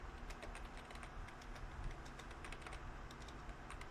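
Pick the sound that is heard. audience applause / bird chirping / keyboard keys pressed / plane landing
keyboard keys pressed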